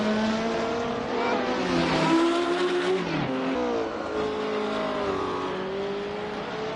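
Classic race car engines in the Assetto Corsa racing game roar loud and close, revving up and down through gear changes with a sustained harsh drone, rising pitch sweeps and brief dips, with no talking over them.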